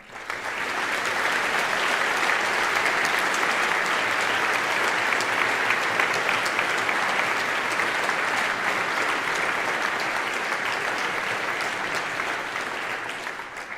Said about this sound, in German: Einen großen Applaus nochmal bitte.